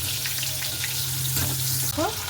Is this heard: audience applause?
no